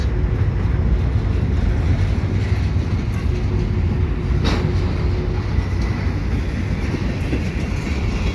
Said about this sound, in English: So after the well cars, we got hoppers.